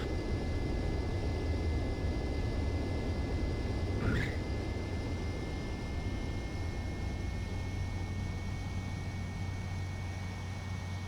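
An aircraft engine drones steadily with a high whine as the plane comes in to land on a runway in Ace Combat 7, a continuous roar with no voices.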